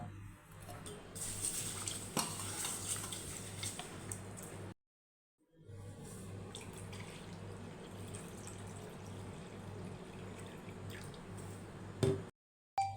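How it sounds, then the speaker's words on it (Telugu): Rice, fenugreek seeds and millets are washed in water, a continuous close swishing and dripping with a short silent pause midway and a clink near the end. "వీటన్నింటిని ఒకసారి శుభ్రంగా వాష్ చేసుకుందాం"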